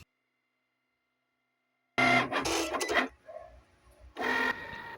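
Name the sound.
print and cut machine scoring a magnetic bookmark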